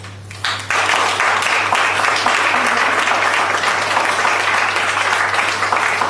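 Applause erupts from an audience at a certificate ceremony, starting abruptly after a quiet moment and holding as steady, dense, loud clapping from many hands.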